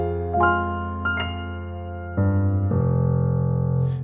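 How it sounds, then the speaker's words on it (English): Native Instruments Maverick piano, a sampled piano playing a few sustained notes and chords that ring out close and clear with no talking. "And so I picked the Native Instruments Maverick piano,"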